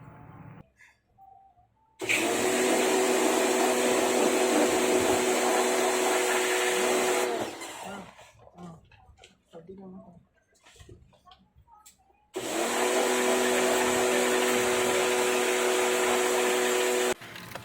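Pressure-washer spray blasting through an air conditioner during a cleaning job, a loud steady hiss that runs for about five seconds, drops to quieter clatter, then returns just as loud and steady for another five seconds.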